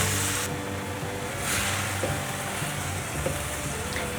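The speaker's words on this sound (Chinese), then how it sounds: "快速的翻炒。" Luffa gourd and enoki mushrooms with radish paste and a splash of water are stir-fried in a pan, giving a steady broadband sizzle with a few scraping stirs, close and fairly loud, with no one talking.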